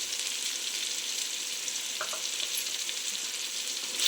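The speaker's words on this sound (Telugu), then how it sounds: "ఇది పచ్చివాసన పోయేంత వరకు మనం వేపుకోవాలన్నమాట" Spices and ginger paste for a village-style chicken curry fry in a pan with a constant hissing sizzle. A faint scrape of stirring comes once midway. No voices.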